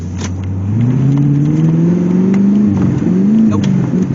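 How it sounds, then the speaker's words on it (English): A car engine fed by a Quadrajet carburetor, suffering erratic fuel pressure and starving for fuel, revs up loudly and unevenly, its pitch climbing, sagging and surging as it runs out of gas. "She's running out of gas."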